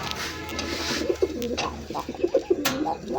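Pigeons kept for sale give soft, low throaty coos, several short repeated calls close by over a steady background murmur.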